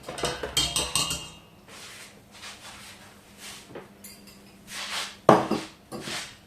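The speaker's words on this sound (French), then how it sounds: "J'ai bien mélangé les œufs et le sucre." Eggs and sugar whisked in a bowl for a Christmas yule log batter, with quick clinking scrapes of utensil against the bowl in short bursts, close and moderately loud, separated by quieter pauses.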